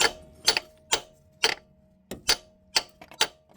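A hammer striking a socket to seat a PTU seal on a Ford 3.5 L, about eight sharp metallic knocks at an uneven pace, close and distinct against quiet background.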